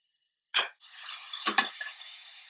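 Ginger garlic paste fries for mutton curry: a spoon scrapes the pan, then a soft, steady sizzle runs with a couple more stirring scrapes and light clinks, close and fairly quiet.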